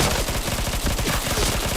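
Rapid automatic gunfire in the shooter game PointBlank, a dense continuous burst of loud shots packed tightly together for nearly two seconds.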